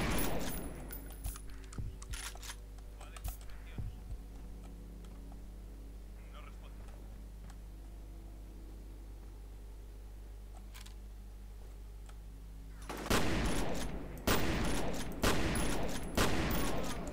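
Gunfire from the first-person shooter game FEAR: a burst of loud, rapid shots in the opening seconds, then a long stretch of quieter game ambience with a low hum, before another dense, loud volley near the end.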